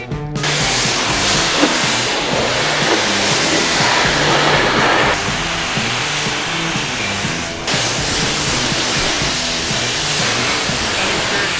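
Two pressure washers rinse a car together, a loud, dense, continuous spray hiss that holds steady throughout, close to the listener with a brief break midway and no talking.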